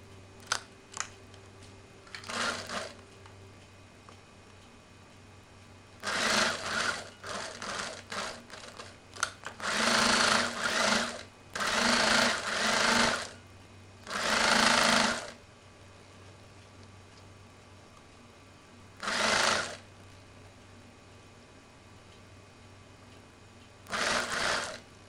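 A sewing machine stitches a fabric face mask in repeated short bursts of fast mechanical whirring, separated by quiet pauses, close and fairly loud with no talking.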